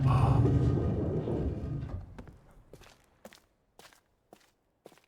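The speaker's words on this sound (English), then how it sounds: "those sounds, the footstep sounds, if you can hear them, is from Myst Online" Footsteps from the Myst Remake video game, sounds borrowed from Myst Online, come as a few sharp separate steps after a fading low rumble, fairly quiet and spaced irregularly.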